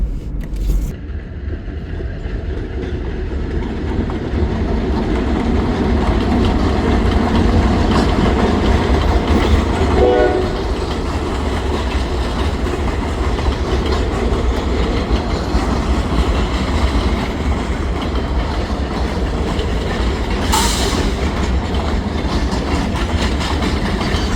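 A freight train hauling pulpwood cars rolls steadily past near a viaduct in an industrial park, a loud continuous rumble of wheels and cars with faint rhythmic clatter, alone without voices.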